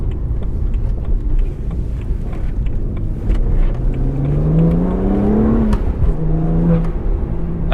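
A performance car engine accelerates hard, its steady loud roar rising into a climbing whine that peaks and drops away before settling again, with no voices over it.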